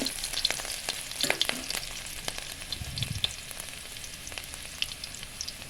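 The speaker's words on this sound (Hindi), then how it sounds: "मैं बारीक कटी हुई लहसुन और हरी मिर्च डाल लेती हूँ और इन सबको अच्छी तरह से पका" Minced garlic and green chili fry in hot oil in a kadai, giving a steady close sizzle with scattered crackles and pops throughout, no talking.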